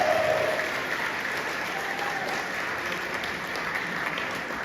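Guests at a family celebration party applaud together in a sustained, even wash of clapping, fairly loud and continuous, with faint crowd murmur beneath.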